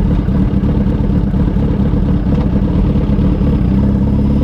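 A motorcycle engine pulls away from a start in second gear, producing a steady, loud, close mid-low engine drone that runs the whole time with slight clattering and no voices.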